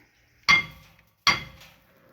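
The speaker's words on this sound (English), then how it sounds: "This one's gonna give it a little bit of smack with a hammer." Two sharp metallic hammer strikes on a 4th-gen Ram 2500/3500 brake rotor ring out about a second apart, each clang decaying quickly into silence.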